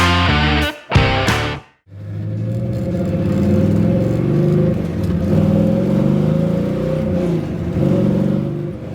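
A 1969 Pro-Street Camaro engine revs in a couple of sharp bursts, then settles into a loud, continuous rumbling drone as the car drives along, close and full-bodied.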